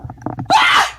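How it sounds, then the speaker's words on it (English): A single loud, close sneeze bursts out after a few soft breathy sounds and murmurs, sustained and harsh for about half a second before fading. "who sneezed?"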